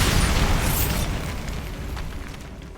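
A single loud Bombarda spell blast in Hogwarts Legacy, a sharp booming burst at the start that rolls off into a crackling, rumbling decay over a few seconds.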